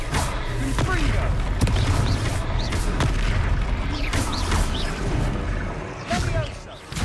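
A Confringo fire blast spell cast during a battle in Hogwarts Legacy, a loud booming impact over dense game combat noise, with a character's voice shouting over it.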